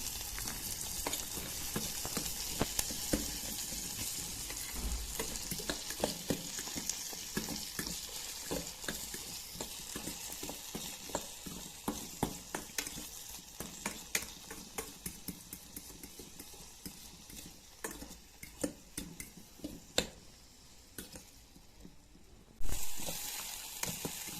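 Onions and tomatoes fry in a pan with a steady, close sizzle, broken by frequent clicks and scrapes of stirring, with one louder clatter near the end.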